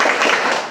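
A school class claps together on a teacher's cue, a brief burst of many hands clapping close by in a classroom.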